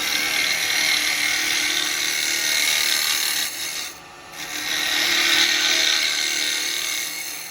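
A carbide chisel cuts into wood spinning on a lathe while hollowing, giving a continuous scraping, rasping hiss that drops out briefly in the middle and then resumes, close and fairly loud.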